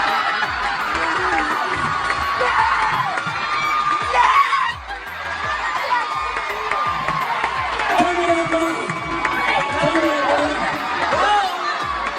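A crowd of excited fans cheers and shrieks continuously at a celebrity meet-up, loud and dense, with laughter and voices talking throughout the steady din.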